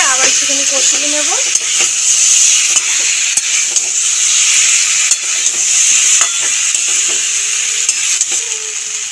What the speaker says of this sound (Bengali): এবার আমি আগে থেকে যে আলু ভেজে রেখেছিলাম আলুগুলোও দিয়ে দেবো। নেড়ে চেড়ে সব একসাথে করে আবার একটুখানি কষিয়ে নেব।